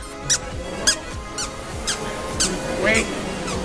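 Squeaker toys at the Anthrocon 2017 furry convention give a series of about seven short, sharp, high squeaks, evenly spaced, close by over a murmuring crowd background.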